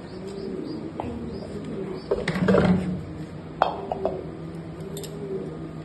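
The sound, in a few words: racing pigeons cooing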